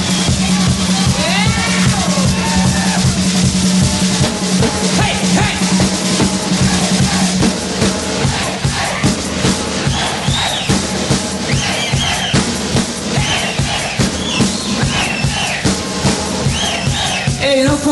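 Large rock concert crowd of thousands cheering and roaring loudly and continuously at a show, a dense sustained wall of voices with whistles and shouts, rhythmic clapping or drum hits pulsing underneath.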